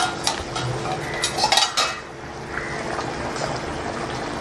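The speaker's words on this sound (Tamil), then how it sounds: "இப்போ ஓப்பன் பண்ணி பார்க்கலாம். நல்லா குழம்பு கொதிச்சிடுச்சு." A metal pot lid clinks and scrapes as it lifts off, then a soft bubbling simmer of Chettinad fish curry continues underneath.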